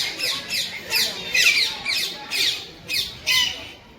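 Parrots squawking at a zoo, a run of about eight loud, harsh squawks in a steady rhythm, each short and rasping, close by and clear with no talk over them.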